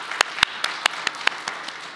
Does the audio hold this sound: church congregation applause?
yes